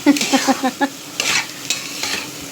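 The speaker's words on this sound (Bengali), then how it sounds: "চাল কেমন ফুটছে দেখো, ভাজা হচ্ছে বলে।" Rice grains for basanti pulao frying and being stirred in a pan, with a close run of spoon scrapes and stirs over a steady sizzle, no voices.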